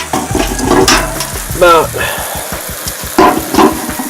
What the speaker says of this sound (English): some other chicken frying over here